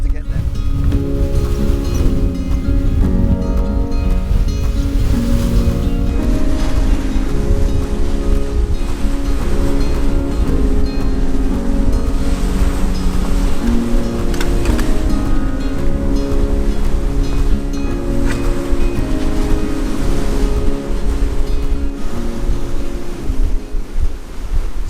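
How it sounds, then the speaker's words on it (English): Sea water washing and draining between rocks on the Isle of Skye shore, a continuous churning surge with wind buffeting the microphone and someone talking over it. "the beauty of the water drifting back down into the sea between rocks"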